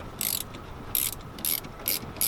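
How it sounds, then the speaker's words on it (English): A ratchet clicks in four quick bursts while loosening the 12 mm clamp bolt on a Miata steering shaft, close and crisp, with short pauses between the runs of clicks. "Next thing is to loosen up the clamp on the steering shaft."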